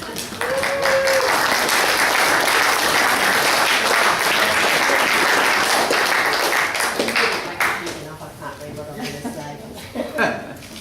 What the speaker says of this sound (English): big clap for us